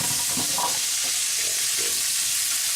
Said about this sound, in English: Alright, so we're going to go ahead and brown the vegetables.